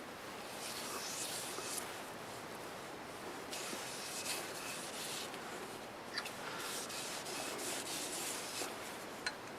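Shellac-based sanding sealer rubbed onto turned black locust wood makes a steady, close, hissing friction that runs continuously with small scratchy peaks.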